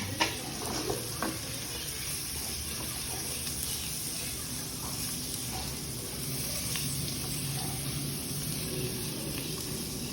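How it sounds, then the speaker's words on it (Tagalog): Chayote sizzles softly and evenly in a pan as it is stirred, with a faint hiss running throughout and a few quiet clinks. "At ilagay na rin natin ang sayote. At atin din ito haluin."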